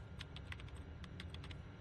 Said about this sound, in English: I like how she's just typing away.